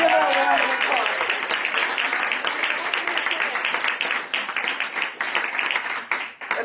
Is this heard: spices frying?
no